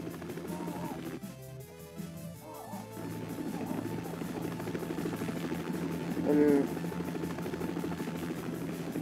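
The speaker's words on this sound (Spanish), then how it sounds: "O sea, ¿el helicóptero, en serio?" A helicopter in the Jackie Chan Stuntmasters video game drones with a steady, quiet rotor buzz and hum throughout, while a player's voice comes in briefly and faint game effects sound underneath.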